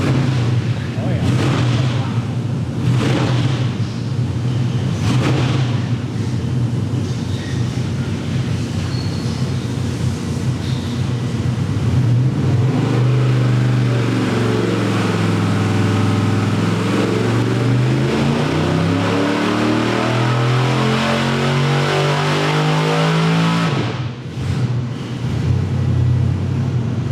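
A 450 hp small-block Chevy V8 runs on a dyno, a loud, rough engine note whose pitch climbs and falls through a rev sweep, with voices of people talking around it.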